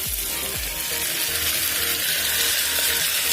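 Mango pieces fry in oil in a wok with Kashmiri chili, cumin and coriander powder, giving a loud, steady sizzle close up, with a couple of soft knocks at the start.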